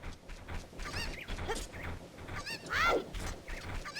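A cucco chicken in Zelda: Ocarina of Time lets out short squawking clucks, with one sharper, louder cry near the end standing out over a busy game background.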